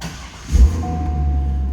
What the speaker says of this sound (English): let's fire this up. It does have a Corsa exhaust on it.